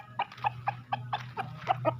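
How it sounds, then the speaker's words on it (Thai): Free-range chickens on a small chicken farm cluck in a quick series of short, soft calls, about nine in two seconds, fairly faint over a low background hum. "นี่คือ ฟาร์มไก่น้อยๆ ของพี่โบ๊ทนะครับ"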